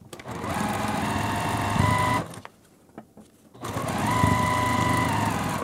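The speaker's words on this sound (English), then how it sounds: "nest those seams and sew right along this edge" Sewing machine stitching along the edge of a beginner quilt block, a steady close whir in two runs with a brief pause and a few clicks between them.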